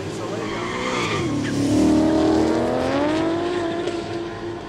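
Ford Mustangs racing head to head on an airstrip at a street drag day in Kooralbyn Valley, loud engines revving up and sweeping upward in pitch with tire squeal, close and continuous, voices faintly beneath.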